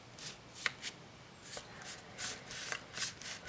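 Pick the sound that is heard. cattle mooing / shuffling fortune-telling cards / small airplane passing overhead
shuffling fortune-telling cards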